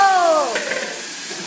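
Shrimp frying in a hot pan at a home Father's Day cooking session: a loud, close, continuous sizzle and crackle, with a descending whistling tone fading out early on.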